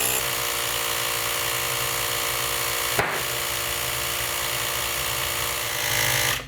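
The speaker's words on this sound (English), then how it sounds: "I'm gonna use my Fantic X9 Ace mini tire pump" A Fantic X9 Ace mini electric tire pump runs steadily while inflating a mountain bike tire fitted with Cushcore, a continuous buzzing drone close by with a brief click midway and a slight rise near the end.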